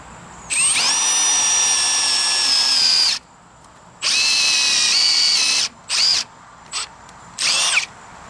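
A power drill drives screws into deck boards, with a long whining run, a second sustained burst, then several short trigger pulses, loud and close with no talking.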